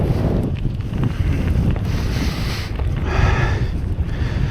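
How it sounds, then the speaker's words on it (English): Strong wind buffets the microphone on the Lincolnshire coast during a cold gravel bike ride, a steady loud broadband roar with gusts swelling throughout and no speech. "here comes the wind"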